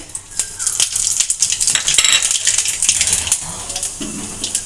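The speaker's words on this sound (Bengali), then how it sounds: "আমি এখানে এখন ফোড়ন দেব প্রথমে দুটো শুকনো লঙ্কা দিলাম আর দেব কালো জিরে" Dried red chilies and nigella seeds hit hot oil in a kadai, a loud close sizzle with crackling spatters and popping bursts throughout.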